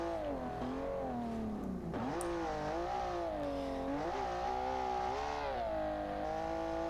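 Engine of an off-road vehicle in the video game Sportsman Unlimited 2, revving high and holding its RPM with a rising, wavering whine, a brief dip and recovery around the middle, loud and continuous without speech.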